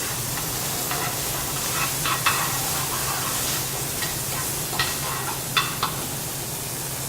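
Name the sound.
sausages frying in a very hot pan with olive oil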